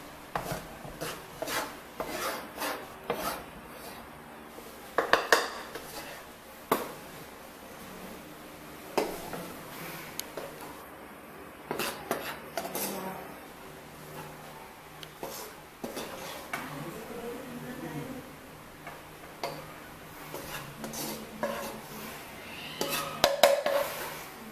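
A spoon or spatula scrapes and rubs through a thick, browning espasol mixture of rice flour in a pan, with repeated rasping strokes and occasional clinks against the pan at a close, steady pace.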